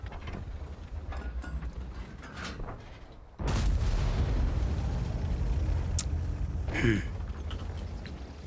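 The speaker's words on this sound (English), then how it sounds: "I want to shoot the high explosives" Object 452K tank in a video game firing a high-explosive shell: a sudden heavy boom cuts in, then a long rumbling roar that holds loud, with a second sharper crack and whine near the end.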